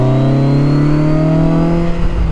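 A BMW K1300GT sport touring motorcycle pulls away hard after a downshift, its engine loud and close with a smooth, steadily climbing pitch through the whole burst.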